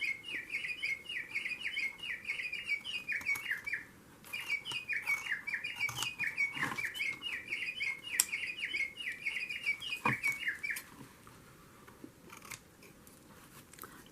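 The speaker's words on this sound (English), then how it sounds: "And there's my bird clock." A bird clock chimes the hour with a recorded bird song, playing a run of bright chirping phrases, a brief pause, then a second run. Close scissor snips and handling clicks sound alongside.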